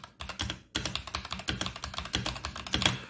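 Typing on an Akko 3098 mechanical keyboard, a steady run of close, crisp key clacks with brief pauses, alone without talk.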